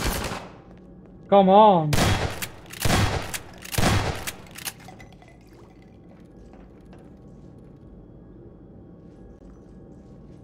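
Gunfire in the Half-Life 2 video game, a short run of several loud broadband shots close together, followed by quiet game ambience, with a brief shout before the shots.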